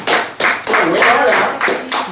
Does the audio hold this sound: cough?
no